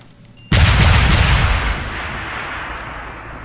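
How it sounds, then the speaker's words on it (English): Mines detonating in a video game, one sudden loud boom that rumbles and slowly decays over a couple of seconds, with no talk. "there's no way to get through this, as far as I know, without setting off every one of those mines"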